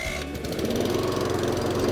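A brand-new Cobra MX484SPCE lawn mower engine starting at the push of a button, catching and settling into a loud, steady, close running drone with a rapid mechanical chatter.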